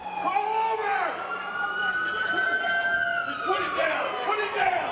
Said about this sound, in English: The sirens were almost deafening.